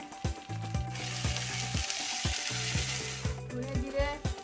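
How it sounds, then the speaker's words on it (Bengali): Onion, ginger paste and garlic paste frying in a pan for a papaya ghonto, giving a steady sizzle under a regular knocking clatter of stirring, with no talk. "এবার আমি এই পেঁয়াজগুলো দিয়ে দিচ্ছি। পেঁয়াজ 1 চামচ আদা দিয়ে দিলাম, আদা বাটা, একটু রসুন বাটা দিলাম"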